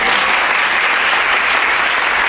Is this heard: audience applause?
yes